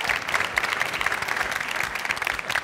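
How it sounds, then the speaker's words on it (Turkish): Studio audience at a Turkish family game show clapping steadily, a dense, close wash of applause that holds throughout without pause. "Ben alkışlıyorum efendim hepinizi."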